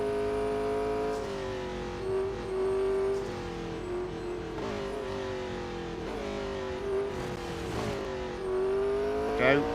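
A race car in the mobile racing game Real Racing 3 runs with a steady, sustained engine whine whose pitch rises and dips as it accelerates and brakes, close and continuous with no talk.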